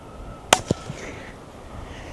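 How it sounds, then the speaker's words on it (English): A subsonic .300 Blackout round fired from a Ruger American bolt-action rifle gives a sharp, fairly quiet crack, followed a split second later by a louder ringing hit on a steel target and a faint second tap, in otherwise quiet outdoor air. "You could hear just how much louder the impact on steel was there than the gunshot itself."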